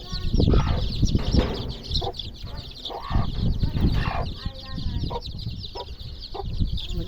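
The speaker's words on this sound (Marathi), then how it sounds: "आमच्या कोंबडीने किती पिल्ले गायले" A hen clucks repeatedly close by while small chicks peep in high, rapid bursts around her; a brief flutter of wings is heard.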